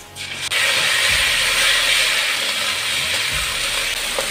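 Ginger garlic paste hits hot oil with fried onions and chillies in a pan, bursting into a loud, close, steady sizzle that holds without a break.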